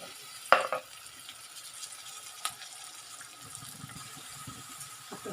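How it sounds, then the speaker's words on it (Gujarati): Tomato and green garlic cook in a pan with a soft, quiet sizzle, occasional stirring clinks and a couple of sharp knocks against the pan. "આપણે એમાં ટમેટો નાખીશું."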